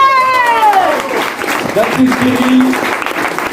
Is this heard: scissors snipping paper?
no